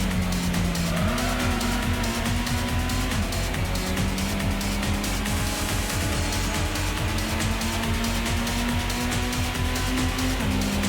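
Race cars in the Gran Turismo video game run at full throttle, a loud continuous engine drone that rises and shifts pitch with gear changes, with tire squeal and skidding mixed in and no voices over it.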